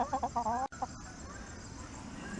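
A chicken gives a quick series of clucks and squawks up close, then falls quiet over a faint steady background hum.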